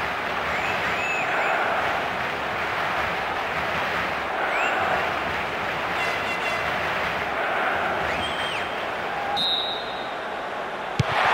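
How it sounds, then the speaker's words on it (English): Stadium crowd applause and cheering in the PES 2024 football game before a Manchester City vs Sevilla UEFA Super Cup match, a steady dense roar of many hands and voices held at even loudness throughout. "The crowd wait to offer them a red-hot welcome"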